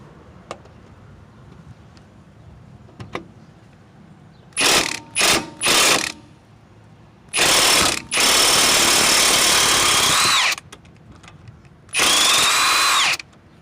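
Loud electric impact wrench firing in bursts: three short rattling hits, then a long sustained hammering run and one more burst, with quiet pauses between.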